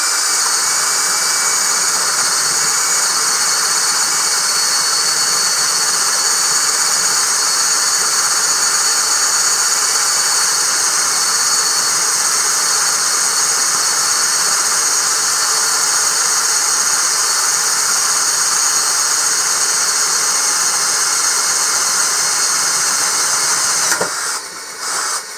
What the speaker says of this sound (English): We start off with the hypertough going into the same piece of pressure treated wood